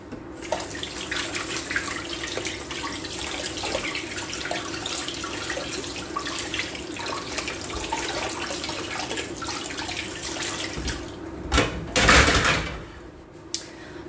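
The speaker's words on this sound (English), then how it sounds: "I'm going to wash my hands" A kitchen tap runs steadily while hands are washed under it, a continuous close hiss of water with splashing and a brief louder burst of knocks and rushing near the end.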